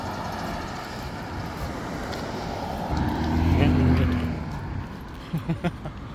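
Steady road traffic rumbles around a car cruising along a seaside road lined with hotels, with a louder vehicle swelling past near the middle and a few short knocks toward the end.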